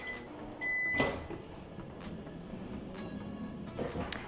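A microwave oven runs while heating a sourdough starter mixture for sandwich bread, giving a steady low hum with a few sharp clicks and knocks, a brief beep near the start, and faint kitchen noise throughout.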